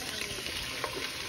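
Onions frying in a pot as the base for a Kobe fish stew, a faint, soft, steady sizzle with light crackles and no talking.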